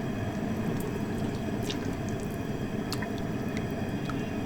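Pork belly cut into pieces and set to boil in a pot of water on the stove, giving a steady close bubbling and simmering wash with occasional small drips and splashes.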